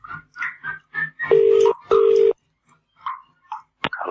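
A call to a drain repair business is placed over a telephone line on a radio show, with two long ringing tones heard down the line between bits of talk, followed by a click.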